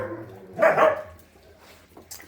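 Several dogs bark in a short burst at feeding time on a morning before breakfast, loud and close for about half a second, then fading into quieter background noise.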